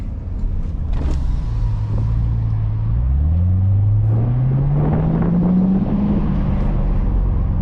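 A 700-horsepower Corvette on its stock exhaust rumbles loud through an underpass, the engine note sweeping upward as it accelerates, with crackling pops and burbles and heavy wind buffeting over the sound.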